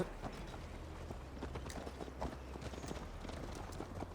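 A horse galloping in Assassin's Creed Valhalla, a fast continuous patter of hooves, quiet and steady under a low rumble, with no voices.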